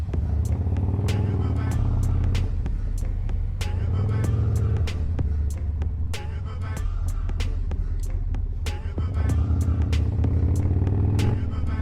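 A Harley Sportster motorcycle rides at night, its engine rumbling loud and steady throughout with rhythmic clattering and ticking over a constant low drone, recorded close while riding.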